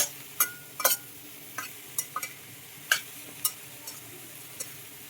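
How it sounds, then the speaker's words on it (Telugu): Ridge gourd pieces being stirred in a cooking pan, with a spoon scraping and tapping the pan in about a dozen irregular, close clinks over a faint background hiss. "బీరకాయ ముక్కలు తొందరగానే మగ్గిపోతాయి కాబట్టి ఇవి కూడా వేసేసి ఒక్కసారిలో తిప్పిపోతాం"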